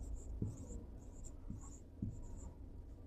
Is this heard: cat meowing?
no